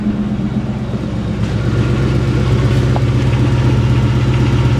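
A Ford Mustang Bullitt engine with stock mufflers and a JBA H-pipe idles steadily and close, a low rhythmic rumbling hum that holds an even level throughout with no talking.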